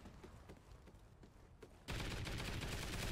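Sustained rapid gunfire from the CBJ-MS in the video game Call of Duty: Ghosts, bursting in loud and dense after a quieter stretch of low background game sound and continuing steadily to the end.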